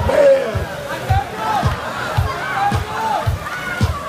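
A crowd cheering and shouting wildly at a drone event, a dense roar of voices with excited whoops and rhythmic low thuds running through it.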